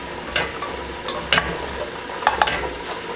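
Diced potatoes frying in a pan for caldo de queso, stirred now and then, with a steady soft sizzle broken by a few sharp scraping clicks of the utensil against the pan, close and without talk.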